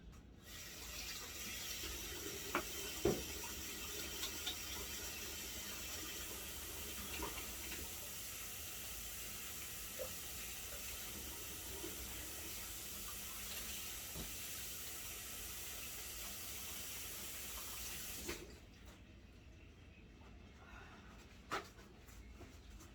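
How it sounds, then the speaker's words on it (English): Hands washed under a running kitchen tap while baking a double batch of lemonade cookies, a steady near hiss of flowing water with small splashes and clinks that stops near the end, no talking. "going to wash my hands real quick."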